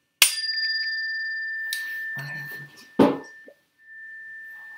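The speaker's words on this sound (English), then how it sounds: "A chime, and I'll encourage everybody to listen." A struck chime rings with a sharp attack and a long sustained bright tone that slowly decays, struck again partway through, alone in a quiet room.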